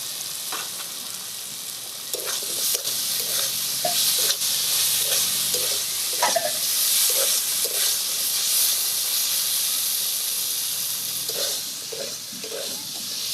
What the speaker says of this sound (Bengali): মশলার সাথে ক্যাপসিকাম ভালো করে ভাজা ভাজা করে নিচ্ছি